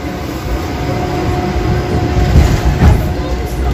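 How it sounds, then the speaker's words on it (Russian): A rolling interior rumble of a Moscow tram in motion, low and steady with clunks and rattles swelling as the car rides along, no talk. "Едем в трамвае."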